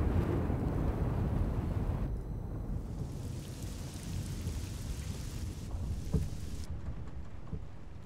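Steady rain pours in the racing game Assetto Corsa, a dense continuous hiss of drops with a low rumbling wash underneath, constant in level with no talking.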